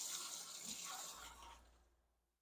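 Water poured from a container into New York–style pan pizza dough already mixed with oil: a steady close splashing stream for about a second and a half that then tapers off into quiet.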